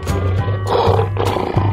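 A lion roars in a short series of loud, rough bursts, close and alone, each roar swelling and fading in quick succession.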